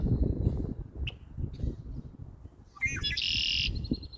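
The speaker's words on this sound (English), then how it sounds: "It's one of those black, blackbirds." A male blackbird gives a few short chirps over a low rumbling background, then a louder, bright whistled phrase near the end.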